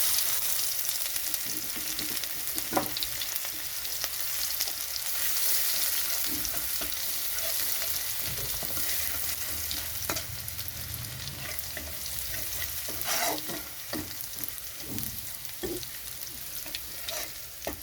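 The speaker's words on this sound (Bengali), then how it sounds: "তো তেলেতে আমি দিয়ে দিচ্ছি রসুন," Garlic sizzles steadily in hot oil for a spicy chanda fish curry, with occasional clicks and scrapes of stirring over the continuous frying hiss.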